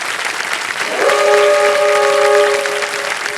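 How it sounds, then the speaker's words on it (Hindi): Studio audience applause on a Kaun Banega Crorepati game show, dense and loud clapping that swells midway, with a sustained musical tone rising over it. "एक बार फिर तालियां बज जाए"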